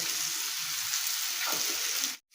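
Ghee sizzles steadily on cauliflower dalna in a pan, a close, bright continuous crackle with no talking, cutting off abruptly at the end.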